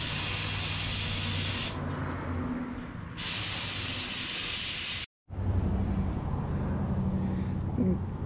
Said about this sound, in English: Now, just gonna use some carb cleaner, some picks, you know,